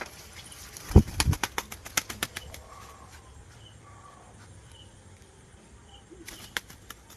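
Pet pigeons in the evening at a drinking bowl, with a cluster of sharp flapping and pecking bursts early on, then soft, faint cooing and rustling scattered over a quiet background.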